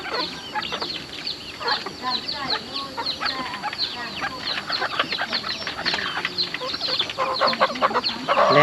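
Chickens cluck busily and close by on a Thai home or farm setting, with dense overlapping calls and chatter throughout, and people can be heard talking underneath.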